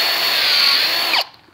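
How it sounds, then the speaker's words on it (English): A power drill bores into the trunk of a living tree to set an Arborplug, a loud steady whine held for over a second before the bit spins down and stops abruptly. "Now I'm going to drill into the xylem."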